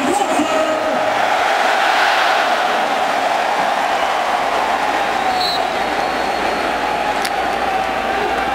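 A college football stadium crowd during TCU versus Minnesota, a dense, continuous roar of cheering that stays loud and steady throughout, with a commentator talking over it.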